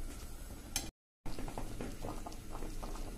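Kathiyawadi kadhi boiling in a pot on a medium flame, a steady soft bubbling and popping patter that continues close and even, briefly cut off by a gap.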